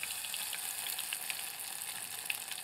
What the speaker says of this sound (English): We've got a saucepan with an inch or so of oil in it, frying